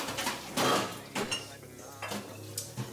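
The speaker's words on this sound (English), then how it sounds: "So we're cutting up some Spam, last minute Spam" A knife cutting Spam in a home kitchen, several dull chops and clinks of blade on board, close up and moderately loud.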